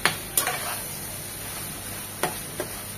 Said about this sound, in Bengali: প্রথমে দিয়ে দিচ্ছি যে ডাঁটাগুলো পুঁই শাকের, এটা মশলার সাথে 1 মিনিট কষিয়ে নেব